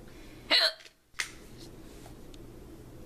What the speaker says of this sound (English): I wish these hiccups would go away.